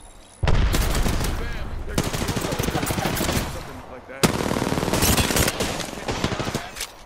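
Sustained bursts of automatic gunfire in a PS4 multiplayer shooter, loud rapid rattling in several long volleys with brief gaps, while players talk excitedly over it.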